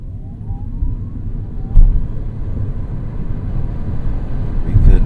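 A Fiat 500e electric car pulls away from a standstill with a quiet low road rumble and faint motor whine that build toward the end.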